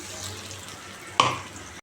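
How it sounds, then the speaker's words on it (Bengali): Black cumin seeds sizzle quietly in mustard oil in a wok, a low steady frying hiss broken once by a sharp utensil clink near the end. "কড়াইতে সর্ষা তেল দেবো দেখো এর মধ্যে আমি একটু কালো জিরে দিয়ে দিচ্ছি"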